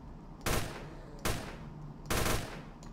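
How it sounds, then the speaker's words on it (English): Rapid gunfire from a weapon in the Roblox video game sounds in three loud, dense bursts, evenly spaced and heard alone over a steady background hum. "it shoots like 6 bullets per second now"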